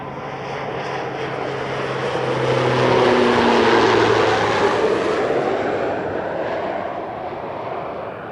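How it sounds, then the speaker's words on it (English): A propeller airplane passes close overhead at a flight school, its engine drone swelling to a loud peak midway and then fading as it moves off. "we got a mandatory plane break coming in behind me here"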